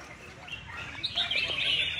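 Competing songbirds at a bird song contest in Vietnam, giving bright chirping calls that swell in the second half over a steady background of crowd murmur.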